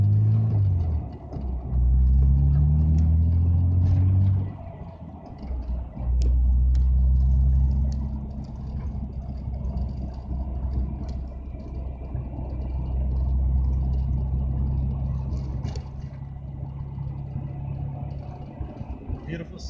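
A Toyota Supra is driven past a golf course, its engine rising in revs through early gear pulls, then settling into a steady road rumble and hum, with talk over parts of the drive.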